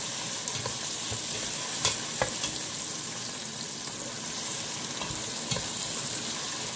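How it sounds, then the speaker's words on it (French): Onions sizzle in hot oil in a pan, a steady, close, crackling fry with occasional stirring scrapes and no talk. "Je fais revenir les oignons pendant quelques secondes dans l'huile"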